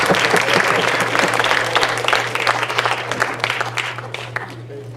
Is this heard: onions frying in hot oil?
no